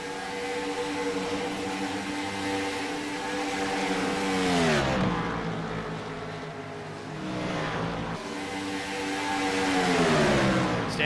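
IROC race cars thunder around the Atlanta oval, loud engine roar sweeping past in waves with falling pitch as each car passes close by, one pass after another.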